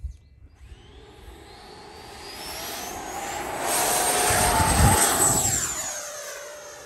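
An FMS Futura v3 electric RC sport jet with Reflex v2 stabilizer passes overhead, its ducted-fan whine swelling from faint to a loud roar near the middle, then sweeping down in pitch as it flies away, no talk.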